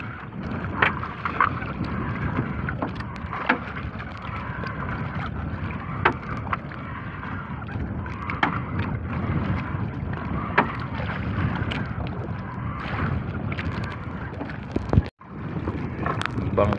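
A small boat moves steadily across water, with a continuous low rumble and splashing, wind buffeting the microphone and occasional knocks.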